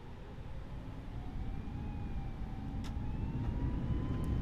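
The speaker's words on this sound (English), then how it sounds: "here's where we can hear our engines screaming on the departure" Jet engines of an Airbus A320 spooling up on departure in a flight simulator game, a loud, steady low roar with a thin rising whine, building gradually and heard alone.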